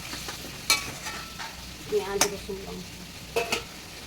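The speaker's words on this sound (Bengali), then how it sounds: "একটু ভাজা ভাজা হবে গাঠি কচুগুলো" Taro stems (gathi kochu) stirred and frying in a home kitchen pan, with soft continuous sizzling broken by a few sharp scraping stirs of a spatula; no talking.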